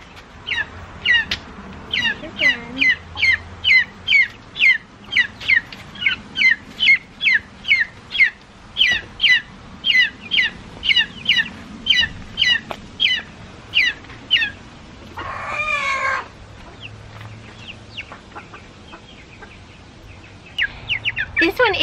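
Chicks or young chickens in a predator-proofed coop with olive egger and Copper Maran mixes, giving a steady series of sharp repeated high chirps and peeps, close and fairly loud, with a brief louder squawk burst partway through.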